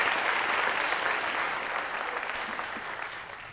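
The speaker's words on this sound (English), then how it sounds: "Let's give them a round of applause" Sustained audience applause at a senior awards and cording ceremony for the class of 2017, a dense, steady wash of many hands clapping that fades slightly toward the end.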